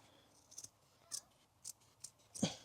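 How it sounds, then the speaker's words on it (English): Scissors snipping through carpet during a Transit Custom camper van conversion, several short crisp cuts spaced apart, the last one louder and fuller, close by with no talk. "Hopefully this scissors will cut it."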